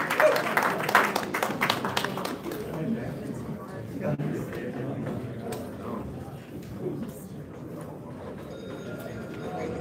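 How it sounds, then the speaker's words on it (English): Applause at a boxing weigh-in inside a large arena, opening with a loud burst of clapping that thins into a busier, rumbling crowd murmur, with voices mixed in. "Big round of applause for the ladies."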